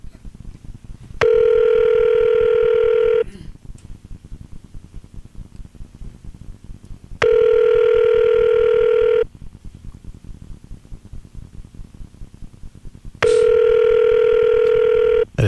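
A telephone rings on a call, three long electronic ring tones about two seconds each, spaced roughly six seconds apart, over a constant crackling line noise.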